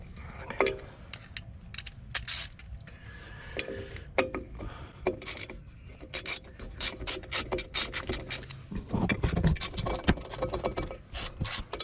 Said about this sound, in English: let's take the brake cylinder activator off.